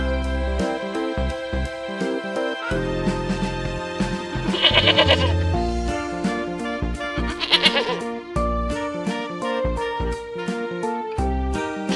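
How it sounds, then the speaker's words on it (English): A sheep bleats twice, each call short and wavering, over a steady music background. "Sheep."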